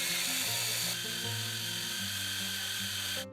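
A food chopper whirs steadily at high speed blending cooked liver with cooking liquid, its motor pitch shifting slightly, then cuts off abruptly at the end.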